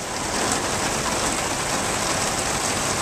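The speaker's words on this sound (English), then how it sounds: "It's raining really, really hard." Heavy rain pours down hard outdoors in Hialeah, a loud, steady, dense hiss that holds at the same level throughout with no voices.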